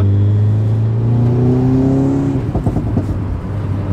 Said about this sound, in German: man tritt aufs Gas und das Auto gibt einem das Zeichen, ich hab Bock.